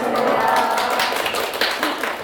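Students applauding a lecturer at the start of a real estate law class, a brief burst of clapping that stays fairly loud throughout.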